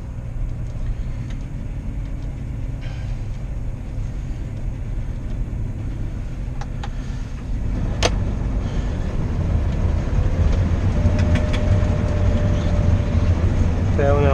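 A Claas combine harvester fitted with a rapeseed header starts up during harvest, its engine settling into a loud, steady low rumble that grows heavier partway through and keeps droning to the end, with a voice speaking over it.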